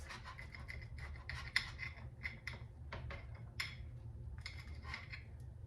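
Knife sawing into a breakfast sandwich on a plate, a series of faint close scraping and rasping strokes with small clinks, no talking.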